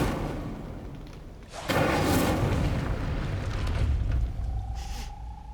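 The Incendio fire spell in Hogwarts Legacy erupts as a sudden roaring blast that sets off a sustained rumbling whoosh, fading into a low hum with a faint steady tone near the end.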